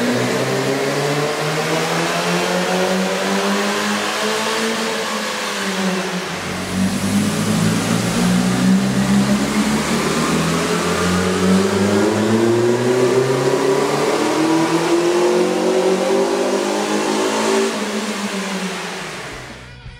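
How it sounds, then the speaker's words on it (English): A 2012 Honda Civic with a 1.8L engine and an aftermarket air intake running on a dyno, with a loud, steady engine drone that climbs in pitch, dips briefly around six seconds, then rises again in a long rev sweep. "we ran the vehicle on the dyno to test the sound comparison versus the stock intake"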